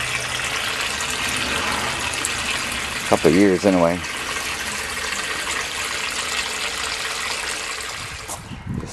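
Water gushes from a pump that had not been used for a couple of years, a steady rushing flow with a brief warbling surge partway through, while someone talks over it.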